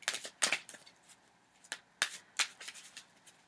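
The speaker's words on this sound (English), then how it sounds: "I'm just shuffling here." Tarot cards shuffled by hand, a few crisp riffling bursts close by with short pauses in between, quiet and alone.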